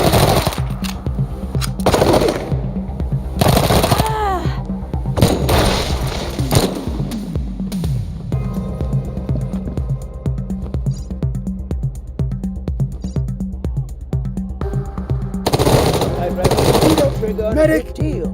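Heavy gunfire in the Wasteland 3 video game: loud, sustained machine-gun bursts hammer on over a constant rhythmic backdrop, with repeated louder volleys and impacts throughout.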